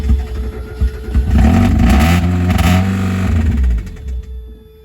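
A Mazda Miata engine that needs gas and has lifter tick, running close by with a rough, throbbing idle that swells into a steady revving roar, then drops away near the end.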